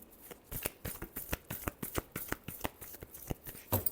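Tarot cards being shuffled for a love reading, a quick run of crisp riffling snaps, close and fairly quiet, in an uneven rhythm with no voice over them.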